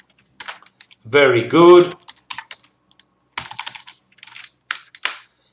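Python code being typed on a computer keyboard, with quick clusters of close, crisp key clicks that come in short bursts separated by pauses; someone speaks briefly between the bursts.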